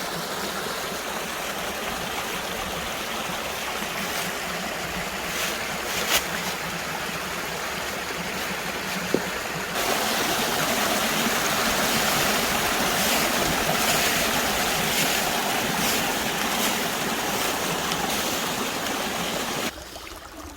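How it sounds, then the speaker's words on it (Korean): A swollen mountain valley stream runs after rain in a loud, continuous rushing roar that grows slightly fuller partway through, a steady broadband wash of flowing water with no voices. "여기 이곳은 비가 왔는지 계곡 그 물이 참 많이 내려가네요"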